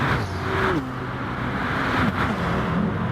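Race cars in GT Sport run at Blue Moon Bay, with one car slotting behind an Audi to take its slipstream. Engines drone and shift pitch as the cars change gear, steady and fairly close.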